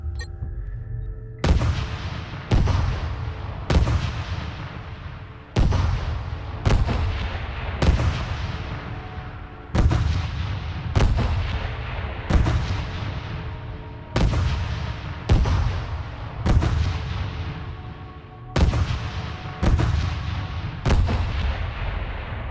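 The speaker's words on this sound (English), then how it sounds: "I guess it's a good thing that the bombardment isn't more accurate at this point" Artillery bombardment in the space strategy game StarDrive: heavy booming shots land one after another at irregular intervals, about every second or two, each with a sharp attack and a rumbling decay, loud and continuous.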